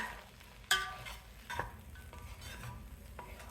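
Puffed rice is stirred with crushed ginger and green chillies in a pan, giving soft scraping and rustling with a few sharp clinks of a spoon against the metal, close and fairly quiet.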